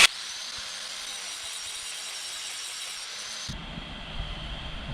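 Angle grinder cutting down the edge of a 1300 Ford Escort sump so it fits a 1600 crossflow engine: a steady, loud, high-pitched whine holds for about three seconds, then its tone shifts and roughens toward the end.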